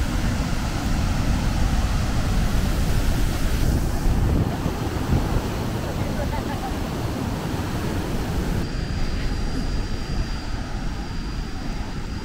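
A powerful waterfall in Uganda roars close by in a thick, unbroken wash of noise, buffeted by gusts of wind against the microphone.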